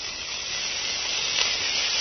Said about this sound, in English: She used to call it frying the garlic.